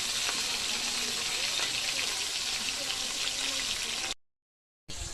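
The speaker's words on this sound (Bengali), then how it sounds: "লাল লাল করে ভেজে নেব মাছের মাথাটা" A fish head fries in hot oil in a pan, making a dense, even hiss that runs almost unbroken. It cuts out briefly near the end and then returns.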